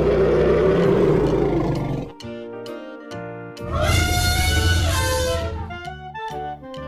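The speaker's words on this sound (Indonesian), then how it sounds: "Wah, besar sekali mamutnya." A mammoth sound effect gives a loud, deep roaring bellow. It comes in two long bursts with a brief gap between them, then falls to quieter rumbling tones.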